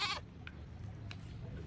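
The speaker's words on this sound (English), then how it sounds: "Just then, the sound of their goat, Lily's best friend, was heard outside." A farm goat gives a short bleat right at the start, close and fairly loud, then only quiet background remains.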